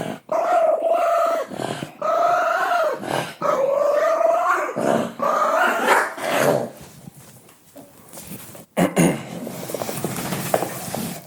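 A dog barks and growls up close in a home, a run of loud, rapid barks with snarling tones, then a short lull before a few more sharp barks.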